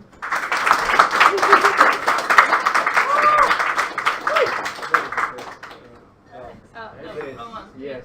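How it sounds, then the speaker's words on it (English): Audience at a game developer meetup claps steadily for about six seconds, a dense wash of many hands filling the room, then fades out as people begin talking. "Applause, please."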